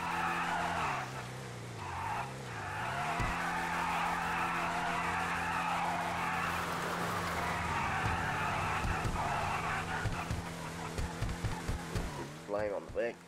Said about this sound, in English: Spinning the tires.